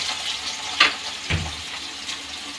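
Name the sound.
soybean chunks frying in oil in a pan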